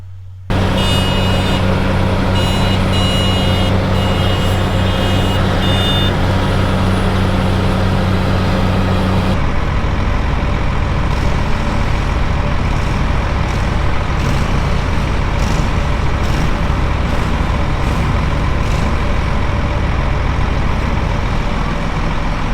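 A truck on moving day runs continuously and close, its engine a steady heavy drone with a high tonal whine at the start that shifts to broader rumble and road noise partway through, loud throughout.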